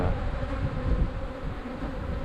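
Honeybees hum loudly and continuously at an open hive being nursed back from a mite problem, a dense, close, unbroken buzz with no talking.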